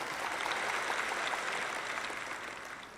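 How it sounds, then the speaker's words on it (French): Audience applause fills a large hall in a steady, dense wash of clapping that slowly fades over a few seconds, with no talk over it. "ça mérite plus qu'un petit applaudissement timide derrière"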